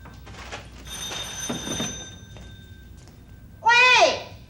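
A telephone rings indoors in a Taiwanese home, a bright warbling electronic ring bursting in near the end after quieter speech and movement earlier.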